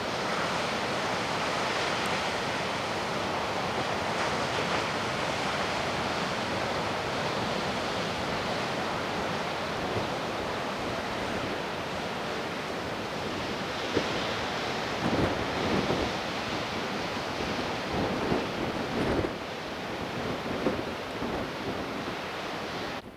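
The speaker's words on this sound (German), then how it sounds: "Hier pfeift ein kräftiger Wind. Die See ist entsprechend aufgewühlt." Strong wind roars across the microphone over the constant wash of rough Barents Sea surf at Berlevåg on Norway's Varanger Peninsula, a dense, unbroken noise with occasional gusty bumps.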